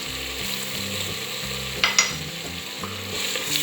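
Sri Lankan beef curry simmering with tamarind juice in a pan, giving a steady close sizzle and bubbling with a couple of brief utensil clinks partway through, with no voices.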